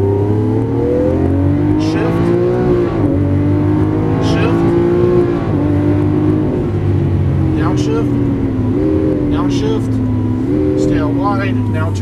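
A green 2012 Lamborghini Aventador accelerates on a Las Vegas race track, its engine note rising and falling through repeated gear changes, steady and loud throughout, with a voice giving driving instructions over it.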